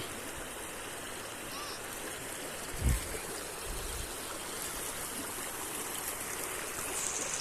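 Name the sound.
stream of sewage water flowing in a channel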